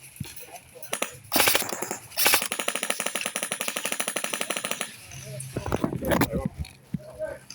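Airsoft guns firing on an airsoft field set up as London's Oxford Street, loud rapid automatic bursts of clattering shots with a few single cracks, close by, with voices talking around the shooting.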